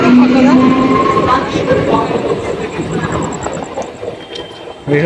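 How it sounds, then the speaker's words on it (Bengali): A Bandel local train passes close by during Durga Puja at a crossing where people are crossing the tracks, a loud continuous rumble and clatter of wheels on rails with a brief high squeal at the start, fading slightly toward the end. "তো আমাদের সামনে দিয়ে ট্রেনটা পাস হচ্ছে"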